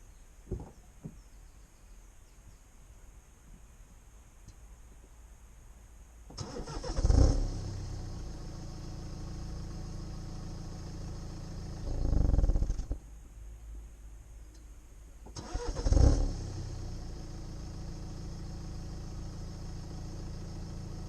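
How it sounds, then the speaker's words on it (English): A BMW 118d M Sport 1 Series engine idles quietly, then rumbles in three low, swelling bursts as it is switched off, each rising and fading away, with quiet hum between them. "how weird it sounds when you switch the car off, like apparently it growls"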